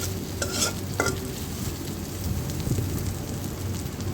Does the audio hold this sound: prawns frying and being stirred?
yes